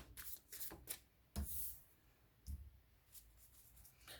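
Quiet, soft riffling and slapping of tarot cards being shuffled in a few brisk bursts, close by.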